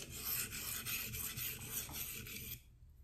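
A knife blade is drawn across a Venev Phoenix resin-bonded diamond stone near the plunge grind, giving close, rhythmic rasping strokes about twice a second before stopping abruptly.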